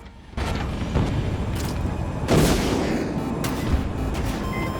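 Battlefield 2042 combat with repeated heavy booms and blasts over a steady rumble, one louder impact burst midway as a TOW missile hits a tank, loud and close, no talking.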